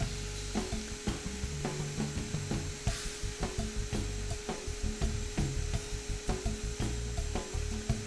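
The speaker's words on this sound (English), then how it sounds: "the skim cut I'm taking right here is about 2/10" A lathe takes a light skim cut on an ebony and African blackwood pool cue, producing a steady hum under a rhythmic series of soft scraping, ticking pulses repeating about twice a second.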